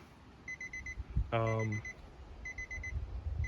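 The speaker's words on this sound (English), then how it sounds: "That beeping is very annoying." Electronic beeping from inside a Nissan 350Z, with faint repeated high chimes in rhythmic groups and one louder, lower descending tone sweep partway through, over quiet background rumble.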